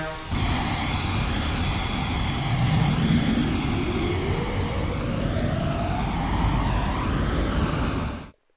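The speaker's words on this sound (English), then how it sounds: "a huge diesel locomotive getting ready to move out of the yards" A huge diesel locomotive moves out of the rail yards with a loud, steady engine roar that rises slowly in pitch, close and continuous before cutting off abruptly at the end.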